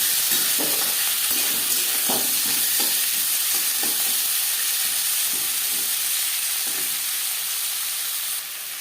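Onion, tomato and garlic fry in oil in a pan with a bay leaf, giving a steady, fairly loud sizzle and hiss, with soft stirring scrapes scattered through and the sound dropping slightly at the end.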